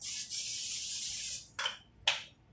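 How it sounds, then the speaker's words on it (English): A long aerosol hiss followed by two short, sharp spray bursts, close and clear, with no talking. "we are going to start by spraying the pan we're going to use"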